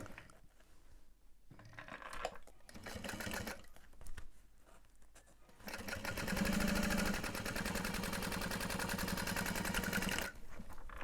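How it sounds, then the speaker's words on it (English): A sewing machine stitches the bottom seam of a bag. Short stop-start bursts come first, then one long, steady run of rapid stitching, close and loud. "So I'll sew the bottom first."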